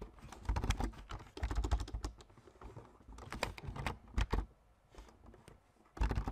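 Typing on a computer keyboard while setting up an Azure Private DNS demo: irregular bursts of clattering keystrokes, close and fairly loud, with short pauses between runs and no talk.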